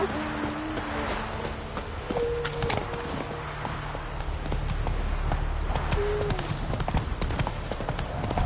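Roach, a horse in The Witcher video game, clip-clops at a steady, fast run throughout, hoofbeats loud and close over a constant low background rumble, with a couple of brief tonal sounds in between.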